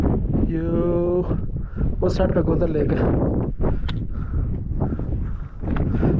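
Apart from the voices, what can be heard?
cold wind blowing outdoors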